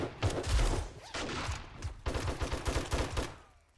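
Rapid bursts of gunfire in the video game 7 Days to Die, several weapons shooting at zombies in close, loud, overlapping volleys with short gaps, filling the whole moment.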